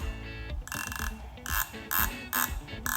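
Close, quick ratcheting clicks in short bursts as the adjuster on an MZS clutch lever for a Yamaha FZ-09 is turned by hand, with brief pauses between turns.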